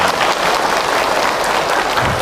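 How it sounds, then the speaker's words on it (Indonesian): A religious lecture audience claps together, a dense, even wash of applause from a crowd sustained throughout at a fairly loud level. "Jadi insya Allah berikan tepuk tangan buat."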